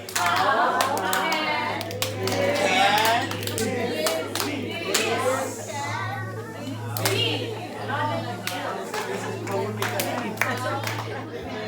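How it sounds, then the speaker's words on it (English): Hand claps ring out as a church congregation claps, each person slapping a neighbor's hand, a scattered burst of sharp claps over a crowd with children's voices and chatter, while a steady low hum runs beneath. "and clap your neighbor's hand."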